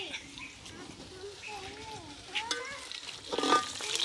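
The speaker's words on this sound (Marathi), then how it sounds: "आता आपण अद्रक लसणाची पेस्ट टाकू।" Ginger-garlic-chilli paste is added to onions frying golden in a pan, and a soft continuous sizzle runs under a person talking, with a few louder spatters and stirring scrapes near the end.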